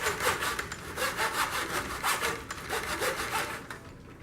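A hand saw cuts grid-line grooves into a wooden tic-tac-toe board, giving a steady, close, rhythmic rasp of back-and-forth strokes with no talking.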